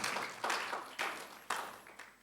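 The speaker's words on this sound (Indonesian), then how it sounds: "Berikan tepuk tangan." A church congregation applauds during a Sunday service, a short run of soft, rhythmic clapping in several even waves, each one fading quickly, faint and slightly distant.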